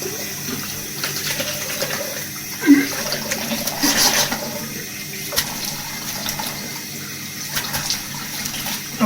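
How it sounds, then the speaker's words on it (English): Cold tap water runs steadily while a face is rinsed at a bathroom sink after a straight-razor shave. The splashing is soft and continuous, broken by occasional louder splashes and knocks, with no talking. "So now I'm going to rinse it off with cold water."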